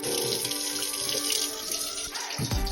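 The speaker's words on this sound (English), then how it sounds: "I fill it up probably about a quarter of the way with water" Tap water running steadily into a BlendJet portable blender jar being rinsed and filled for cleaning, a continuous close splashing hiss with a brief shift in tone near the end.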